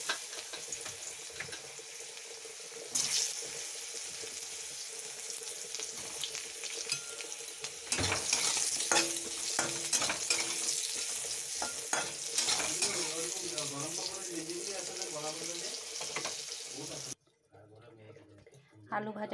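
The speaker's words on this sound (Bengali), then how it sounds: "আলুগুলো ভেজে নেব অল্প" Potato pieces sizzle and crackle in hot oil in a frying pan, with stirring and scraping of a utensil. The sizzle grows louder and busier partway through, then drops off abruptly near the end.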